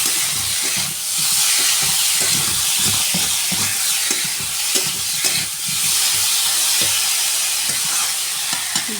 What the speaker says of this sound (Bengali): এবার আমি এর মধ্যে কাঁকড়াটা দিয়ে দেবো।